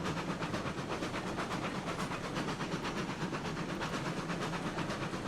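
A locomotive pulls a train in the railroad game RailRoads Online, giving a steady, rhythmic chuff and clatter with a constant hiss throughout, close and even in volume.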